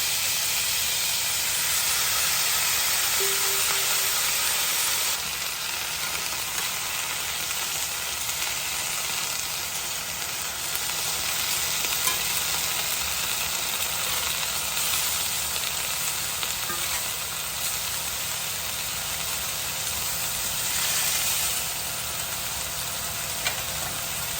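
Green beans sizzle steadily in a hot pan, a constant crackling hiss with no talking.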